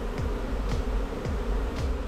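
Dense, steady drone of many honeybees at an open, packed beehive during a spring inspection, loud and close, with individual bees passing now and then over the continuous hum.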